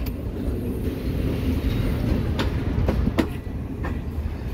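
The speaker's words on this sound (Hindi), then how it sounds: "उस भाई की ट्रेन निकल गई।" Green Line Express passenger train pulling out of a station in Pakistan, a steady loud rumble of rolling wagons with faint clickety-clack and brief squeals from the wheels, no voices.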